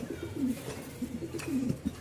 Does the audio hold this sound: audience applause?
no